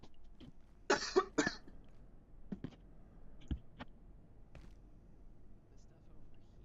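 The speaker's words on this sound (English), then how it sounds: "Sorry about the cough." A person coughs a few times in a quick, harsh burst close to the microphone during a game session, followed by scattered clicks and light background noise.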